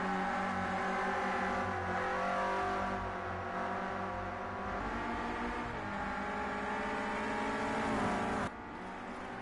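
Renault Clio Cup race cars braking hard into the opening corners, a loud continuous engine drone with shifting pitch that stays close throughout and drops abruptly near the end.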